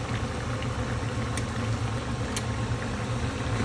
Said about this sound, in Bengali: এইবার আমি ভাজতে পারি।